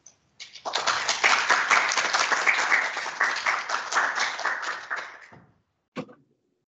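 Applause from a lecture audience welcoming a law professor, a dense burst of many hands clapping that swells quickly, holds steady for about five seconds and fades, followed by one last isolated clap.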